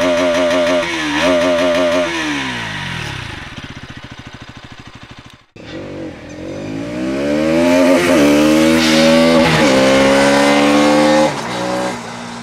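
A 2024 Bajaj Pulsar NS200 motorcycle's exhaust revs up close and loud, with sharp throttle blips and falling revs, a brief cutout, then rising sustained revving.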